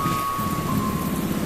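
Steady rain with a low rumble of thunder fills a stormy scene in an audio drama, a continuous dense wash heard alone with no voices.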